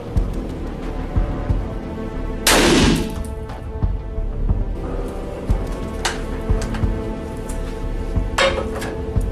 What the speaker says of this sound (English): Shot number three, back, 357 Magnum, 158 grain JSB.